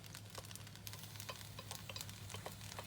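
Shrimp sizzling in a stir-fry pan with noodles, a faint continuous crackle dotted with small pops and light stirring clicks, under a low steady hum.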